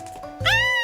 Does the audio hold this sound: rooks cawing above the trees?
no